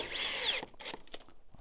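A power drill drives a screw into a fence while goats are kept nearby, whining loudly and steadily for over half a second, then stopping and giving way to short, scattered knocks and handling noises.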